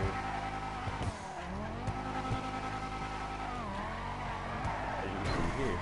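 Car holding a long drift in a race setting, tires squealing loudly and steadily over a droning engine whose pitch bends up and down, with a faint voice briefly in the background.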